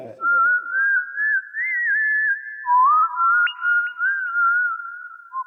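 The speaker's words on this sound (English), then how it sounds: "Let's whistle that." A person whistles a sustained, wavering melody of long held notes with a few quick pitch jumps, clear and close, with no other voices.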